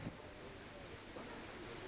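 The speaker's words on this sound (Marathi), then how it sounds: "कोरेगाव पार्क परिसरात मुसळधार पाऊस, सोसाट्याचा वारा या ठिकाणी सुरू असल्याचं दिसतंय" Heavy rain and strong wind in the Koregaon Park area of Pune roar as a steady, dense wash of noise, with gusts buffeting the microphone throughout.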